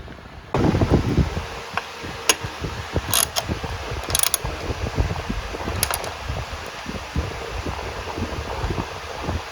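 Ratchet wrench tightening bolts on a Harley-Davidson Road Glide headlight kit, giving quick bursts of metallic clicking with a few sharp clinks, close and alone, with no talk.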